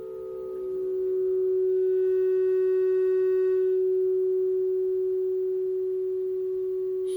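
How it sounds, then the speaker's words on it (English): Feedback tone from a Colossus Audio Zakal delay pedal: a single sustained pitched tone with faint overtones swells in, holds steady, then slowly eases off, with no voices. "The key is taking the feedback and start giving yourself some of the delay unit, or the reverb-ish sound."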